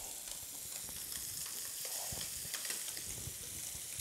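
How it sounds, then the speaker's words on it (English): Fish sears on one side in a hot pan for a cioppino stew, a close, steady crackling sizzle dotted with small pops and scraping stir sounds. "But that sear is going to give it a nice little presentation."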